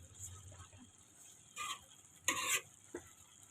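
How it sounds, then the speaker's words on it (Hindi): Channa pulao rice being stirred gently in a cooking pot: a quiet scraping rustle at the start, then a few short louder stirs and clinks of the spoon against the pot, with a faint sizzle underneath. "इसको हिला लें आराम से,"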